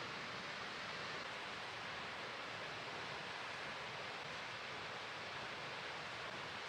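A waterfall in the wild on a morning, roaring as a steady, broadband rush of falling water that stays constant and fairly close throughout, with no voices over it.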